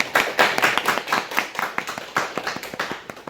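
A small church congregation claps to welcome a first-time attendee, a brief burst of sparse, uneven hand claps at close range, with no talking over it.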